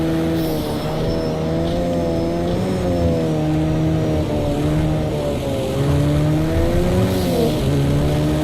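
A car engine in a racing video game drones steadily from inside the cabin, its pitch rising and dipping as it revs through gears, with no talking.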